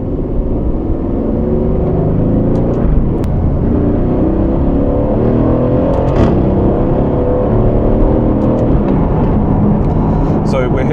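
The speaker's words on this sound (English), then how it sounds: "We've got a little bump here, so I'm going to go all the way down to 2nd." Car with paddle shifters downshifting to second gear and driving carefully over a little bump, a steady loud engine drone and road rumble with shifting pitch, under someone talking throughout.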